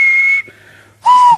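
Steam engine James sounds his whistle loudly and close by: one long high blast, a brief softer dip, then a second shorter, lower-pitched blast.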